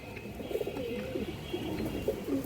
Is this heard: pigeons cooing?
yes